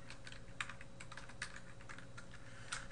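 Typing on a computer keyboard, a steady run of light, quick key clicks with a few sharper taps, close and alone against a faint steady hum.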